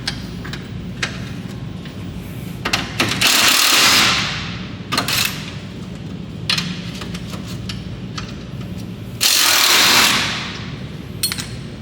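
Tools tick and ratchet in short bursts while bolts are tightened on the steering rack of a BMW E9X race car with a wide-angle kit. Two longer, louder whooshing bursts stand out against a steady background hum.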